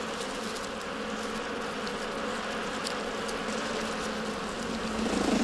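Honeybees in a colony nesting inside a tree give a steady, dense buzzing hum that holds at an even level throughout, with no voices.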